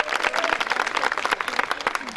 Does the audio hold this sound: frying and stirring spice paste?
no